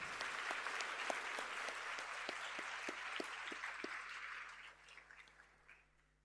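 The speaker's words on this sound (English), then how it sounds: "Please join me in giving them one last round of applause." A school prizegiving audience gives a round of applause, dense clapping with a few sharper individual claps standing out, which thins and fades over the last couple of seconds.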